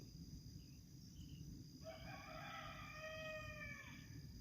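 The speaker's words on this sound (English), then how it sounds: "Shut that fucking bird up, Frankie." A rooster crows loudly once, a drawn-out cock-a-doodle-doo rising from mid-clip to near the end over a steady background hum.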